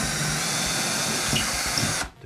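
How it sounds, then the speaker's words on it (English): A power drill whirs steadily at close range for about two seconds drilling into a plasterboard wall, then cuts off abruptly. "By moving the second bracket to one side, you can easily drill"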